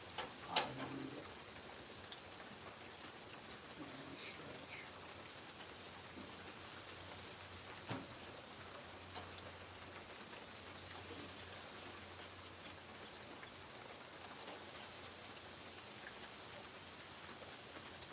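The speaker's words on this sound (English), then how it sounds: "This rain's messing with my temperatures." Steady rain patters outdoors during a grilling session, a soft continuous hiss with scattered drip ticks and a few brief louder taps, no voices.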